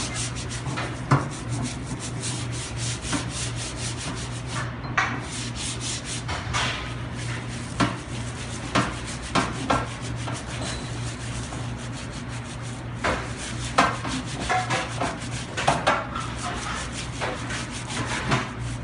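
Scrubbing of greasy commercial kitchen equipment, repeated rough rubbing strokes in an uneven rhythm over a steady low hum, close and moderately loud, with no talking.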